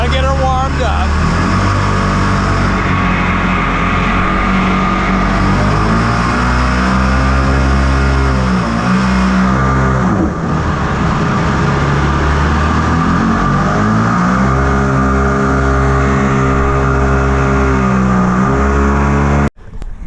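A mini jet boat engine warms up and revs, a loud steady drone with rising and falling pitch through most of the run, cutting off abruptly near the end; voices talk faintly underneath.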